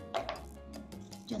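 A knife cutting through a head of chicory on a board, a few quick quiet slicing chops in an uneven rhythm, close and soft in a calm kitchen.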